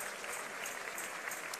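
Church congregation at a Sunday service claps for newcomers, a dense, even wash of applause from the whole room, moderately distant and sustained without pause.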